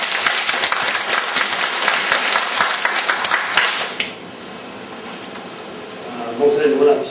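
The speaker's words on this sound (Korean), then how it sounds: "우리 목사님 위해서 박수 한번 합시다." A church congregation at Sarang Church in Daegu breaks into applause for the pastor: a dense, loud burst of many hands clapping for about four seconds, then fading to a quieter room where a voice begins.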